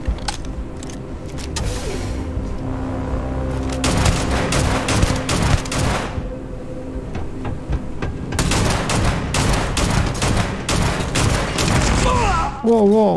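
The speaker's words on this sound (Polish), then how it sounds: "Wow, wow, jeszcze eksplozje." Gunfire and explosions in the sci-fi video game Starfield during a fight in a mech factory: dense bursts of rapid shots and heavy booms, loud and nearly continuous, with a brief pause midway.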